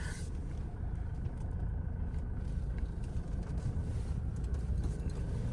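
A Toyota Hilux diesel pickup pulls away from a fuel pump, a steady low engine rumble and road noise heard from inside the cab, moderately quiet with no talk.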